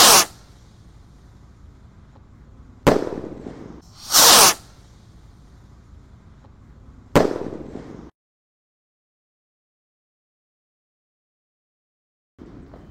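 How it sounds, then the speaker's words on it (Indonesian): A Gold Dragon Rocket firework launches with several loud, sharp hissing whooshes and bursts in quick succession, then near silence, and one more hiss begins at the end. "Roket siap meluncur."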